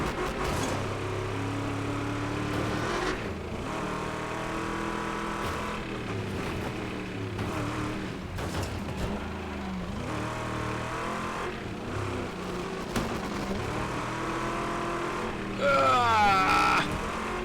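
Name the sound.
race car engine revving in Wreckfest 2 video game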